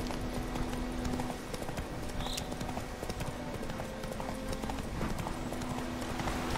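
Horse hooves clip-clop in a steady walking rhythm, close and fairly quiet, as Geralt's horse Roach travels in The Witcher 3: Wild Hunt, with a soft continuous ambient bed underneath and no talking.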